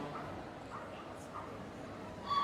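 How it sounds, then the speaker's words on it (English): A Jack Russell terrier, 7 years old, barks and yips during a small-dog agility team final run at Crufts in a large arena, short sharp calls spaced out over steady crowd and hall noise. "It looks like Humphrey's one of these verbal terriers as well."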